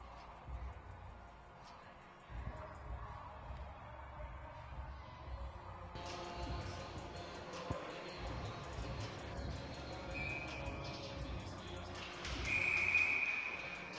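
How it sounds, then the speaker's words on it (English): At an ice hockey face-off in a college Division 3 game between Mizzou and Wash U, a referee's whistle blows sharply for about a second near the end, over ongoing arena noise and skate sounds. "Got a whistle right off the face-off."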